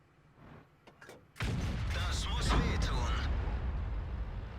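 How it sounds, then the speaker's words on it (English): A Jagdpanzer E-100 tier 10 tank destroyer firing HE shells in World of Tanks, a sudden heavy boom giving way to sustained roaring rumble, with someone narrating over it. "So he continues to fire HE"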